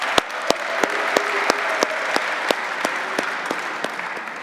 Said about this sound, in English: So why don't we give them a round of applause?